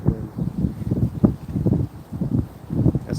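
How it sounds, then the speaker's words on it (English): Wind gusts through woods, buffeting the microphone in a low, uneven rumble that swells and fades in bursts for the whole stretch. "you can probably get a little bit of that wind."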